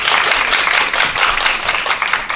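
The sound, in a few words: applause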